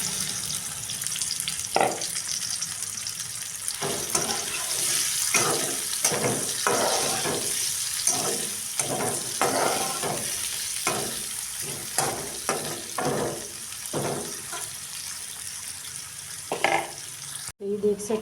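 Onions frying in hot oil for a Punjabi-style tarka bhindi, a steady close sizzle broken by repeated bursts of stirring and scraping, with no one speaking.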